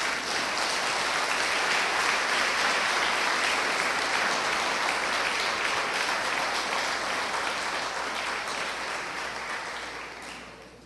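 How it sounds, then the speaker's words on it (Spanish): A church congregation claps steadily through a Sunday service, a dense, loud, sustained wash of applause that fades slightly toward the end, with no talking over it. "¿No le dan un aplauso al Señor?"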